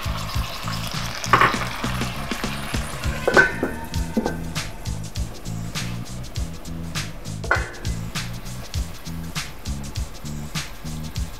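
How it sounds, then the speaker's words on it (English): Food frying in a pan on a home stove after a splash of wine is added, with a steady crackling sizzle, a few louder hisses and stirring scrapes near the start, continuing evenly throughout. "Now, it's starting to sizzle around the edges,"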